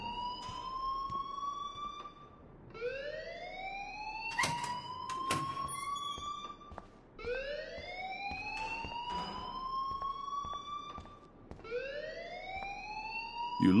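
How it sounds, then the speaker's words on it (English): An alarm blares in a PS4 video game, a siren-like wail whose pitch sweeps upward over and over at a steady pace, with a few sharp clicks between sweeps and no talking. "please turn off that alarm since that's your job"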